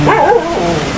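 A dog up on a roof at a backyard farm, one loud close yipping bark sliding into a short whine, alone with no talk.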